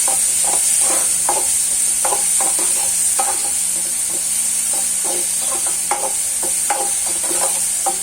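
Chopped tomatoes with salt frying in a pan under a loud steady sizzle, a spoon scraping and stirring in repeated short strokes throughout, close and alone without talk.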